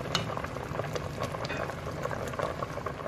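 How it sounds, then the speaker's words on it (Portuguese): Fig jam boils in a pot at close range, a continuous bubbling with small pops and spatters, no one speaking. "Então a ver, já está a ferver bem."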